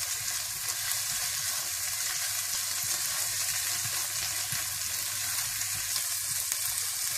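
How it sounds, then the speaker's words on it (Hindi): Steady, even sizzle of turmeric, red chili powder and garam masala frying in oil for moong masoor tarka dal, close and continuous with soft stirring textures and no talk. "इसमें हल्दी पाउडर, सुर्ख मिर्च पाउडर और गरम मसाला पाउडर डाल दें और अच्छी तरह से थोड़ी देर के लिए 2 या 3 मिनट के लिए आप भून लें"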